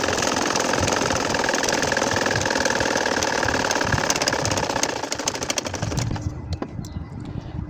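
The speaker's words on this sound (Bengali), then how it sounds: "এখন আমি আড়াআড়িভাবে দেখেন বাঁকা করে সেলাই করে নিচ্ছি" A sewing machine stitches a nakshi kantha quilt with a fast, steady, loud mechanical whir and rattle. The motor runs continuously, then slows and stops near the end.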